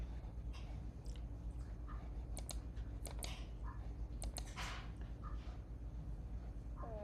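Soft, irregular clicks of typing on a computer keyboard during an online tutoring session, light taps in small bursts over a steady low room hum, fairly close and quiet with no talk.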